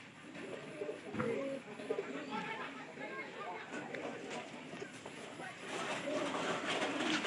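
Pigeons kept in a loft coo steadily in soft, low, overlapping calls, with a person talking over the birds throughout.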